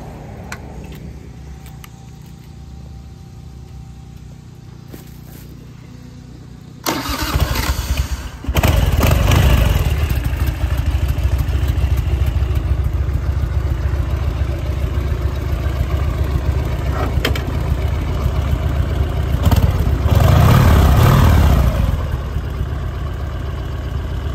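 A motorcycle engine cranks and catches after several seconds of quiet, then settles into a loud, steady idle that runs close by to the end.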